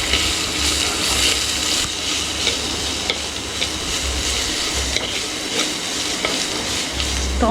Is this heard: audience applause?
no